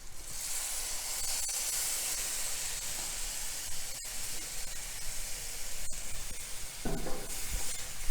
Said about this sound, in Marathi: वाटण पण चांगलं परतून घ्यायचं आहे